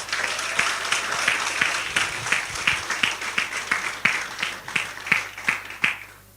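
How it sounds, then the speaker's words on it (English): Graduates at a graduation ceremony clap for their achievements, the applause thinning into scattered, distinct claps that pulse unevenly before fading out. "giving yourselves a rousing round of applause for your achievements"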